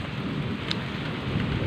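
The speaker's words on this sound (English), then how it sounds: "as you can hear the end of the storm" End of a heavy thunderstorm outside, with dense rain hissing steadily and a low rumbling of thunder underneath, loud and continuous with no talk.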